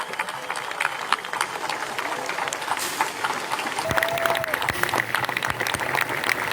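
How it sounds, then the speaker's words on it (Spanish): A large crowd applauds at an outdoor beatification ceremony for the Zenta martyrs in a park, with dense, sustained clapping throughout and a voice faintly heard beneath it. "Grandes sean nuestros aplausos."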